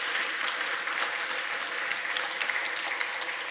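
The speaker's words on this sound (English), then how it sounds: "I do want to have one last round of applause for all the organizers and everyone that took part" Sustained applause from a conference audience at NixCon 2025, dense, steady clapping throughout, moderately close and without speech.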